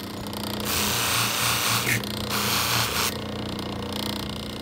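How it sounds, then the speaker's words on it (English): A metal washer is held against a spinning wire wheel and buffing wheel, producing a steady close grinding rasp over the motor's hum, rising for a few seconds then easing off. "I'm gonna clean it up on the wire wheel. I'll clean it up a little bit too on the buffing wheel."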